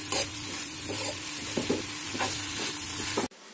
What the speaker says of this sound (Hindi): अब हम इसमें 1 स्पून सोया सॉस डाल देंगे और फिर तेज आंच पर 1 से 2 मिनट के लिए सब्जी